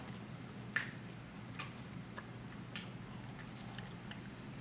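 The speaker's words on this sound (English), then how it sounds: "It's crunchy, but it's soft on the inside." Someone bites and chews crunchy whole wheat thin crust pizza, producing one sharp crunch followed by several fainter crackling chews spaced irregularly over a quiet background hum, with no talking.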